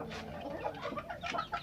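Several chickens cluck in a coop as feed is handed out, with steady overlapping clucks and soft squawks at close range and no speech.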